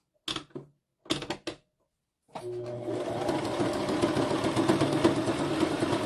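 A sewing machine stitches a zigzag seam, starting after a few short sharp clicks and then whirring steadily and rhythmically at close range.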